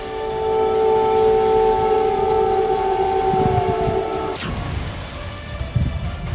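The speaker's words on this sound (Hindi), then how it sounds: "इसके बावजूद सोमवार की रात कीव में अलर्ट सायरन की आवाज गूंजने लगी।" An air-raid alert siren sounds over Kyiv at night, a loud sustained wailing tone that cuts off about two-thirds through, leaving a low rumbling background.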